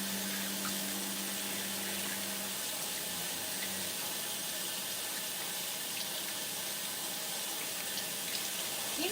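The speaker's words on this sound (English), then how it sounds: "so I'm going to rinse my little fingers off" Tap water runs steadily into a kitchen sink as fingers are rinsed under it, a constant close rushing splash with a low hum at the start, no talking.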